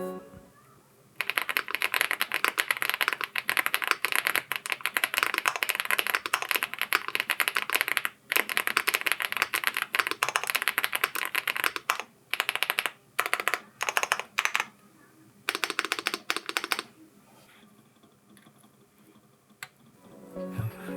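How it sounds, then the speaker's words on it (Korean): Rapid typing on a Rainy75 mechanical keyboard, close and crisp, in long bursts with brief pauses, trailing off near the end. "다시 한번 타건을 해보겠습니다"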